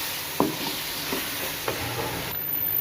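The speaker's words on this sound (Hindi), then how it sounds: "ये आप देख सकते हैं कि कीमा जो है हमारा ज़बरदस्त तरीके से फ्राई हो गया है।" Minced keema fries with spices in a pan, a dense steady sizzle with a couple of clear clinks and scrapes from stirring, close and fairly quiet, without speech.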